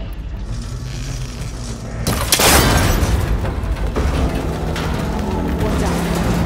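Shot breaking a cable connector on a rickety ancient tower in Horizon Forbidden West: steady rumbling ambience, then a sharp loud crack and rumbling mechanical breakage that lingers.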